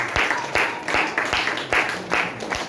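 A church congregation claps in a steady rhythm during worship, seven or so even, loud bursts of many hands at a brisk pace.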